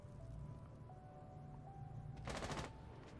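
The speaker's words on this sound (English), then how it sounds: "SMG 11, that's a really nice kill" A quick burst of SMG 11 automatic fire in Rainbow Six Siege, a short, rapid string of shots heard faintly over the low hum of an esports match broadcast.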